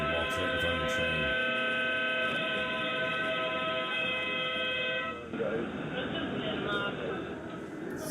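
A train passes close by, its horn blaring in long steady tones for about five seconds before the rumble of the cars continues, with people talking over it.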